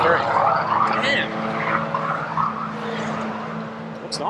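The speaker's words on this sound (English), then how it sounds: "There's a few very loud cars on track." Loud race cars, including BMW E46 M3s, roar and whine on a track nearby at a car event, engines droning continuously while people talk over the noise.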